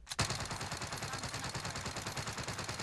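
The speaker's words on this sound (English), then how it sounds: "It's going to shoot, reload, shoot." Rapid automatic weapon fire from an unmodified gun in Call of Duty: Warzone, an unbroken close-up stream of fast, evenly spaced shots starting abruptly after a brief silence and running to the end.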